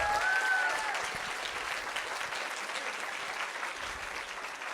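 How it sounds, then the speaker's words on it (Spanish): An audience applauds steadily for several seconds at a speaker event, a dense, even wash of clapping that holds at a constant level without voices. "Les pido un fuerte aplauso."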